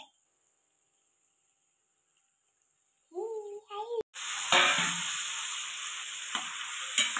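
Pasta and masala hit a hot pan with a sudden loud sizzle after a brief quiet stretch and some clatter, then a steady frying hiss continues with occasional stirring scrapes, close up.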